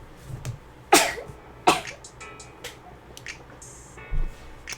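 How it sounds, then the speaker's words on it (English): A single short, sharp sneeze bursts out amid quiet room noise, followed by a second similar burst moments later. "Sorry, I had to sneeze."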